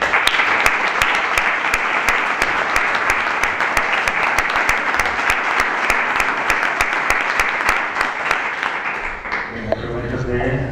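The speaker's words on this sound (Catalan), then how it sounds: "moltíssimes gràcies i un fort aplaudiment" Steady, dense applause from an audience at a talk on Catalonia's economic and political challenges fills the space for about nine seconds, then fades out as a voice begins speaking.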